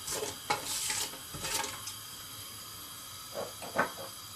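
Shahi jeera sizzling in a hot pan for vegetable biryani, a steady hiss with a few sharper crackles and scraping bursts, close and moderately loud with no voices.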